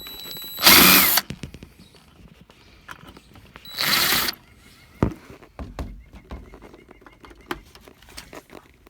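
A power drill backs out dashboard screws on a Volkswagen Rabbit Truck, two loud whirring bursts of about half a second each, close by, followed by quieter clicks and handling of parts.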